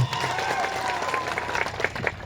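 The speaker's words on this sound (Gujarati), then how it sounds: "ત્યારે સૌ માટે એકવાર જોરદાર તાળીઓ પણ લે" An audience at a rally claps loudly for police officers standing guard, producing a dense, steady burst of applause that tapers slightly near the end.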